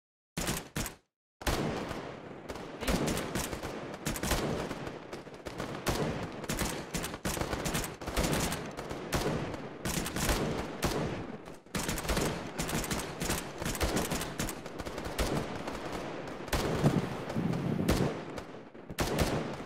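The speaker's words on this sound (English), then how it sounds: "Ready, fire target, and open fire." Sustained gunfire from a squad battle in a video game set at Goose Green, with dense volleys and machine-gun bursts rattling almost continuously after a brief gap near the start, loud and close.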